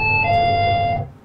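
Two-tone electronic chime of a 7-Eleven store door, a bright sustained ding-dong tone lasting about a second, heard up close before fading.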